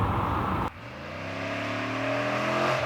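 A 2006 Monte Carlo SS V8 engine runs loud and close, then after a brief dip rises into a steady climbing rev with a strong tonal drone that swells toward the end.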